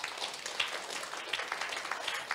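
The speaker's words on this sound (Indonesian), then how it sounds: "Tepuk tangan yang keras." Church congregation clapping during a sermon, a dense, steady patter of many hands at moderate distance with no voices over it.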